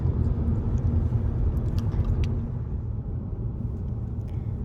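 A car drives a long road journey from Uppsala to a farm in Avesta, Sweden, its steady low engine and road rumble running continuously and close, with no voices over it.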